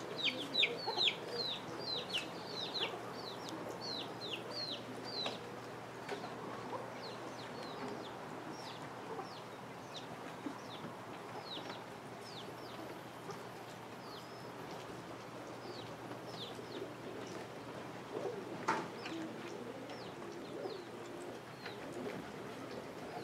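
Roller pigeons in a competition kit at the Modoc High Mountain Roller Classic Futurity give short, repeated calls outdoors, faint and distant against steady background noise, with clusters of calls early and scattered calls later.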